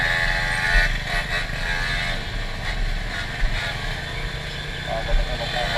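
A motorcycle engine drones steadily throughout, near and loud, with bursts of wind rumble and faint voices underneath.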